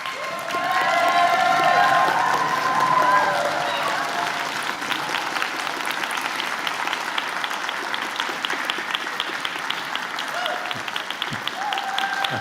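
Graduation convocation audience applauding and cheering, loud at first and then settling into steady sustained clapping with rhythmic thumps that may be stomping feet.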